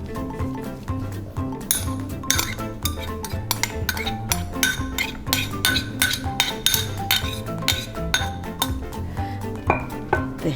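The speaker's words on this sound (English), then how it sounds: "I'm going to mix all my ingredients together" Ingredients for a pork and shrimp siomai filling are mixed in a bowl, making a steady run of close clinks and clatters as the utensil knocks the bowl over a mushy churning, with no talking.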